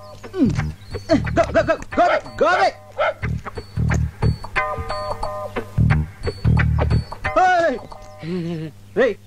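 A dog barks repeatedly in short, loud bursts close by, with people talking over and between the barks.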